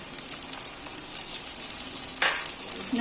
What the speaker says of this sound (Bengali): টমেটোটা দিয়ে পরেও একটুখানি নাড়তে হবে যতক্ষণ পর্যন্ত না টমেটোটা গলে আসছে